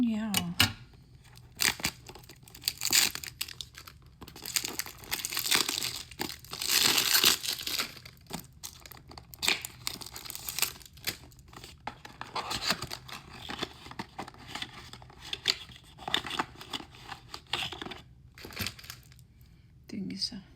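Perfume box packaging being unwrapped up close: irregular bursts of crinkling, tearing and rustling paper and plastic, with soft handling sounds and brief pauses between.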